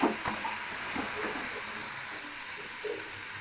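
Chopped tomato and green chilies with chili powder hit hot oil in a pan, giving a soft, steady hiss and sizzle with a few light stirring knocks, close and fairly quiet.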